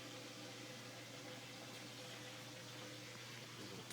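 A GE dishwasher drains water with a steady low pump hum and a faint continuous liquid rush, quiet and unchanging throughout with no speech.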